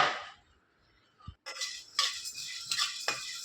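Chana dal roasting dry in a pan is stirred with a spoon, giving quiet scraping and rattling bursts with a few light metallic clinks, separated by short near-silent gaps.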